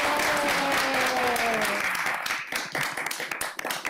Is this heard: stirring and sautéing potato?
no